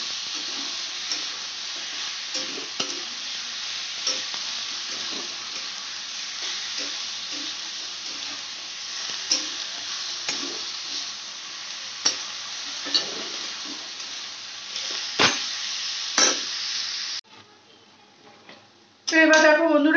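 Chicken frying with spices for pulao, a steady close sizzle with regular stirring scrapes, then a sudden drop in sound before the sizzle returns loudly at the end.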